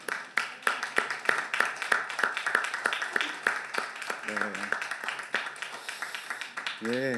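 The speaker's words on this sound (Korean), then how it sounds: "우리에게 찬송을 주신 하나님께 박수로 영광을 돌립시다." A church congregation claps in a steady rhythm, many sharp hand claps evenly spaced, with brief voices rising over the clapping near the end.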